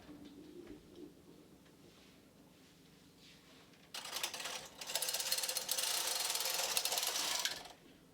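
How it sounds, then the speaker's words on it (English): Brother 260 knitting machine carriage transferring ribber stitches to the main bed, a quiet ticking start followed by a loud, steady mechanical rattling and clicking run of about four seconds, heard close with no voices. "And then we just have to transfer all the ribber stitch to the knitter and then bind"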